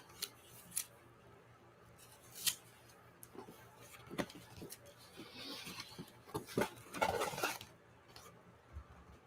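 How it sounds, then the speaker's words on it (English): A box cutter slices through packing tape on a comic book package, giving several short, sharp cutting and scraping strokes at close range, with a denser burst of rustling near the end. "Got some tape here to get off. Must be careful not to cut it with my box cutter."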